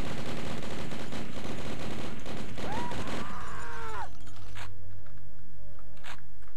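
Tommy gun firing in the game Blood, a loud rapid burst of automatic shots over several seconds, with a rising whine, then quieter thumps.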